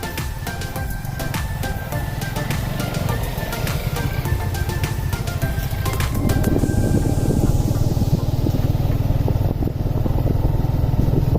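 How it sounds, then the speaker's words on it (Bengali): Motorcycle engine running steadily on a hilly rural road near a land port, a continuous loud drone with rising rumble partway through and no talk. "ওই যে বাইক নিয়ে আসছে"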